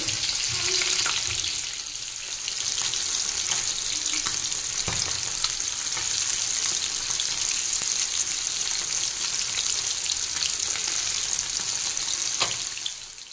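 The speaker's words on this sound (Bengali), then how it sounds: "এই যে মাছ ভাজছি, দেখো কাতলা মাছ" Catla fish pieces fry in hot oil, a continuous loud, crackling sizzle close by for over thirteen seconds, with occasional sharper pops and clinks of a utensil but no talk.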